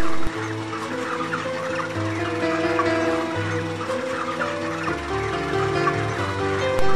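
Six broiler hens cluck continuously during weighing on a poultry farm, a loud, close chorus of overlapping calls and low throaty clucks with farm noise underneath.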